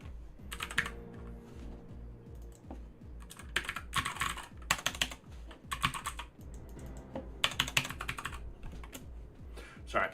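Rapid typing on a computer keyboard during a JavaScript and Python coding session, with close, clattering keystroke bursts and brief pauses, no voice.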